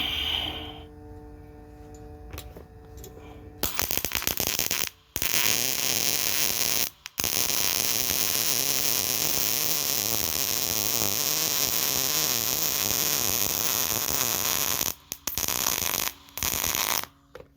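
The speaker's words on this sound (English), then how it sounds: "That's how you want to weld it, just like that right there." Welding on a lawnmower deck, a loud continuous buzzing crackle that runs for long stretches and cuts off briefly a few times, with no talk.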